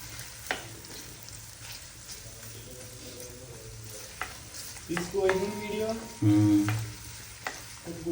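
Onions sizzle in oil in a pan while being stirred, giving a continuous close frying hiss with scraping stir strokes that grow louder toward the end.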